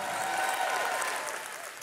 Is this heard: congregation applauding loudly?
yes